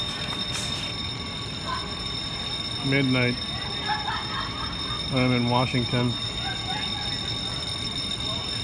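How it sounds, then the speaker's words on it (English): A hotel fire alarm in Washington keeps up a steady, shrill electronic tone at midnight while someone talks over it at close range. "Fire alarm in the hotel."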